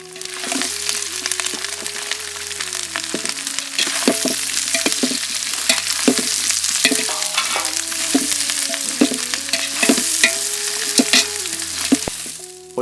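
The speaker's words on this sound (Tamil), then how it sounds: "பொடி பொடியாக நறுக்கி வச்சிருந்த வெங்காயத்தையும் இப்போ சேர்த்துக்கலாம்." Finely chopped onions sizzle steadily in a hot pan as a spoon stirs and scrapes them for a chicken curd biryani, with a continuous loud frying hiss and repeated metallic clinks and scrapes throughout.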